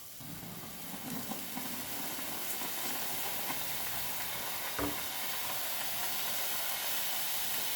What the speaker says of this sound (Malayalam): നിങ്ങളെ വീട്ടിലെ കുക്കറിന് ഇങ്ങനെയാണോ ഗ്യാ വിസൽ പോവുക